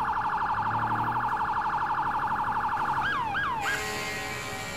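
Fire engine sirens in the EmergeNYC firefighting game sound as units arrive on scene: loud, steady wailing cycles, then a few sharp yelping sweeps and a shift in tone near the end, with no talking.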